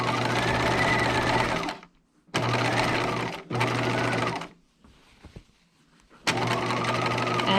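Sewing machine stitching a dress seam at a 5/8 inch allowance, running loud and steady in three long bursts with short pauses between, close up, no talking.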